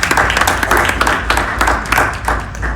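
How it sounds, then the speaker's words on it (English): An audience gives a round of applause at a business gathering, with dense, close clapping that stays loud and fairly even through the short stretch. "Give yourselves a round of applause."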